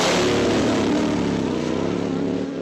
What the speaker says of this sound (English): Let's enjoy the sounds of some high horsepower V-twin